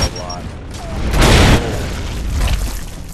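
Frag grenade explosion in Gears of War 3: a broad, booming blast swelling up near the middle and rolling on with a rumbling tail, loud and close.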